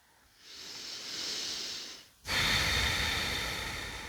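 Two slow, deep yoga breaths are heard close up: a long, soft airy inhale followed after a brief pause by a stronger, louder exhale that tapers away.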